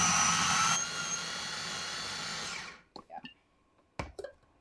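A food processor whizzes hummus made from chickpeas and oil, a loud steady motorized whir that winds down and stops, followed by a few faint clicks and knocks.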